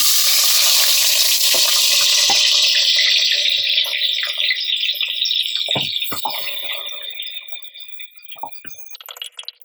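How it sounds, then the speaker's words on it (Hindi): Two large onions fry in hot oil inside a pressure cooker, giving a loud, dense sizzle that slowly fades and thins as they turn golden, with a few sharp clinks of stirring near the end. "यहाँ मैंने ली है 2 बड़े साइज़ की प्याज, इसको हम गोल्डन फ्राई कर लेंगे।"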